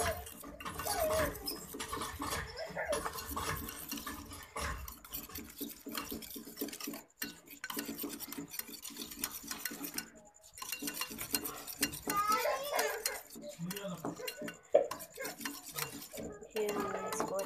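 Egg with salt, chili and coriander is mixed in a bowl, a spoon clinking and scraping against it in quick, uneven strokes throughout, with brief pauses.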